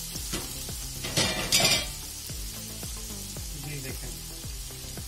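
Onions with tomato paste sizzle and fry in a pan, with repeated scraping strokes of a spoon against the metal and a brief louder hiss, while a person speaks a few words.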